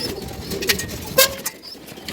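Racing pigeons coo softly at close range, with low murmuring calls mixed with scattered sharp clicks and flutters, and no one speaking.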